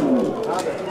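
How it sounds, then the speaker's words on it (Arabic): A pigeon coos low and close at a fancy pigeon exhibition in Mönchengladbach, Germany, a soft rolling call under steady crowd chatter and nearby talk. "ليك هذا عم يزوف عليه كمان"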